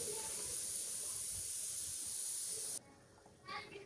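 A pressure cooker of beef bone soup gives off a steady, loud hiss of escaping steam that cuts off abruptly near the end, leaving faint kitchen noise and a brief soft clatter.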